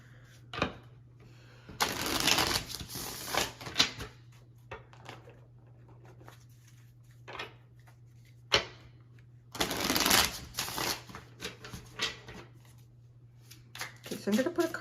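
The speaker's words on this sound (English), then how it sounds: "So I'm going to put a card under each one of these." Tarot cards shuffled and laid out in bursts of riffling and slapping, close and fairly loud, separated by quieter gaps of light handling with a steady low hum underneath.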